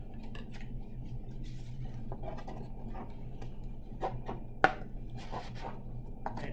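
Scattered light snipping and clicking sounds, like scissors cutting, repeat irregularly over a low steady hum, with one sharper snap midway.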